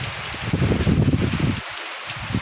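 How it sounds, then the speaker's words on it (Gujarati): Monsoon rain from a second spell falls on crop fields in Una taluka, a steady wash of rain mixed with gusty wind buffeting the microphone, with no voices. "આપણે તો સારી ફીટનો વરસાદ અત્યારે પડી ગયો ને હજી તો ભાઈ ચાલુ જ છે"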